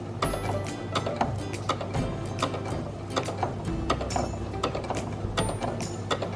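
A sewing machine stitches trim onto pillowcase fabric with a fast steady mechanical whir and rhythmic clicking. It runs continuously and close by, with no speech.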